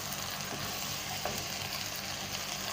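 Okra sizzling and frying in oil in a pan while being stirred with a spoon, a steady loud crackling hiss with a brief scrape of the spoon midway.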